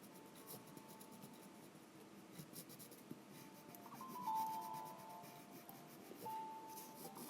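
Colored pencil shading lightly over ivory on paper, a faint, close, continuous scratchy rubbing that swells slightly in a few strokes.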